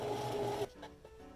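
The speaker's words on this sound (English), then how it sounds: "Sew the edge of the fabric." A sewing machine stitches the edge of fabric for a crop top, giving a steady whirring motor hum for just over half a second that then cuts off, leaving a few soft rustles.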